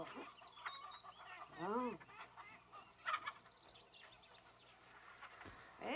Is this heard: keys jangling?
no